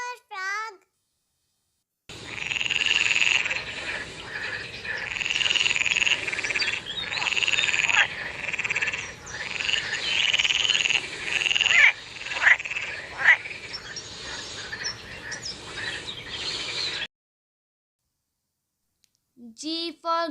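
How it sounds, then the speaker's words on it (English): A cartoon frog croaks continuously for about fifteen seconds in a children's alphabet lesson, the calls loud and layered with a bright, raspy texture. A voice speaks briefly before and after the croaking. "F for frog"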